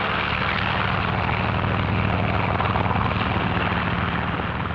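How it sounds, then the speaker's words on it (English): Control planes take off from an aircraft carrier during the 1946 Bikini Atoll tests, a loud continuous propeller-engine drone that holds steady without pause. "Also taking off from the carrier are control planes that will guide the radio-controlled drone boats."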